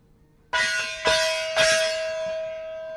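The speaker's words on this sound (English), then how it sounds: "you bang a gong for Joe" A gong is struck three times in quick succession, each hit ringing out bright and metallic, then the shimmering tone lingers and slowly decays, loud and unaccompanied by talk.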